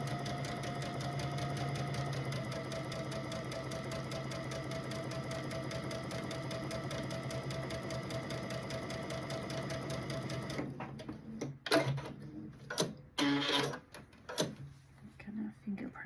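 A sewing machine runs steadily with a rapid, even rhythmic clatter, backstitching a Dresden plate pillow seam, then stops amid handling noises and short knocks.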